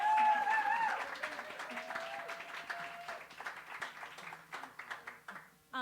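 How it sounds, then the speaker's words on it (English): Applause from a club audience for band members at a CD release concert, a crowd clapping that swells, then thins into scattered claps with some voices mixed in. "a big round of applause to all these guys"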